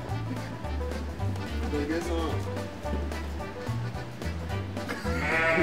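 A sheep bleats repeatedly, close and loud, in wavering cries over background noise, with people talking at points.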